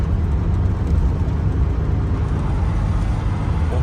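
A small Ebro vehicle driving on the road while towing a Nissan Navara, a steady low engine drone with road rumble, continuous and fairly close, with no voices.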